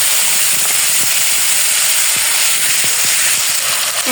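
Chopped tomatoes land in hot oil with bay leaf, cardamom, cinnamon and cumin, producing a loud, dense, steady hiss and sizzle with occasional crackling pops throughout and no talking.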